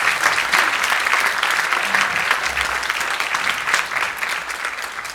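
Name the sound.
audience round of applause at jazz camp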